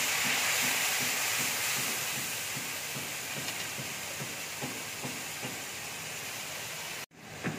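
Spices added to a hot pan for a vegetable curry, loud steady hiss and sizzle with rhythmic stirring clicks, cutting off abruptly near the end.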